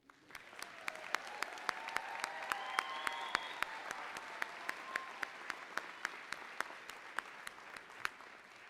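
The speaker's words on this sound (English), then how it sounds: "Let's applaud again." Sustained applause from a graduating crowd at a fall 2019 community college commencement ceremony, steady dense clapping with distinct sharp claps cutting through, a short whistle-like call early on, no talk over it.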